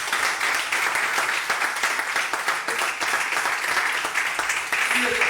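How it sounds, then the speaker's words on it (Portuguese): Applause rings out in a TV studio during a football talk show, a steady dense wash of clapping held at an even level for several seconds, with faint voices underneath. "por isso, uma salva de palmas para essa."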